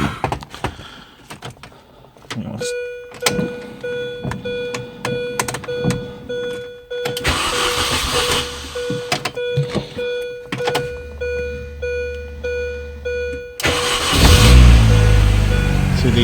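Clicks and dashboard chimes, then a 2002 Mini Cooper engine cranks and catches, settling into a running rumble before a louder rev near the end.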